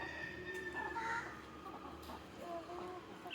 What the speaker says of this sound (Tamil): இது எவ்வளோ தான் ப்ரோ என்கிட்ட இருக்கக்கூடிய கோழி